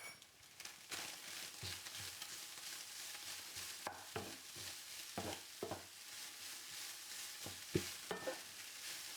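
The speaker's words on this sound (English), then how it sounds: "And we'll give that a stir." Lamb and onions frying in a pan for Turkish lamb pasta, stirred with a utensil: a steady soft sizzle with repeated scraping knocks and clinks, fairly quiet and close.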